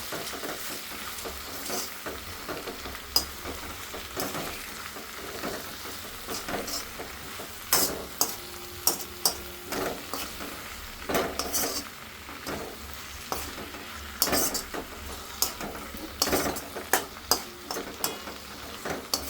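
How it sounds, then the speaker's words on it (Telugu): Gongura curry mixed in a pan, with bursts of spoon scraping and clinking against the metal over a low sizzle, stirred in uneven rhythmic strokes up close. "ఇలా వేసేసుకొని ఒకసారి దీన్ని బాగా కలిపేసేయాలి"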